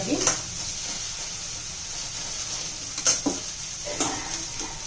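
Masala bhindi (okra) sizzles in a pan with a constant bright hiss, broken by a few scraping stirs near the start, around the three-second mark and at four seconds; no one talks over it.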